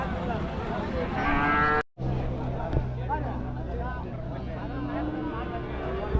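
Cattle at a busy livestock market in Minnampalli, Salem: a low moo rises over a steady crowd hubbub, with people talking throughout.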